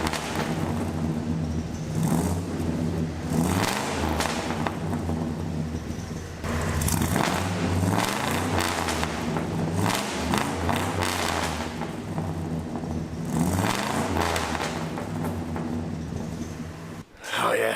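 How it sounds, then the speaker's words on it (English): The 6-liter engine of a Squarebody dually hot rod, run with a hardwired fuel pump, idles loudly up close and is revved several times in rising surges, cutting off sharply at the end. "we'll give you a couple of raps, let you listen to the greatness of the 6-liter on this hot rod"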